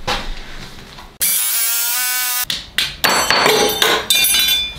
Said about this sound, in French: En haut elle est bonne, donc je vais la visser et ensuite je la ferai ressortir du bas.